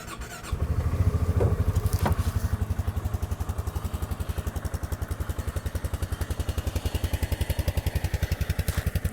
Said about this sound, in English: We'll go ahead and fire it up here for you, for those of you that want to hear maybe the exhaust.